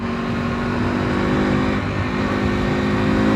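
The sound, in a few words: KTM Duke 390 R motorcycle engine braking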